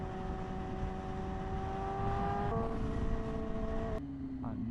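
Superbike engine and aftermarket exhaust at a steady drone while riding in traffic, with a slight pitch rise partway through and a drop toward idle near the end, close and continuous.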